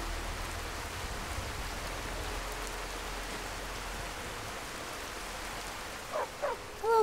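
Steady rain falling in the video game Skyrim, a soft continuous wash with no talk, with a few brief higher chirps near the end.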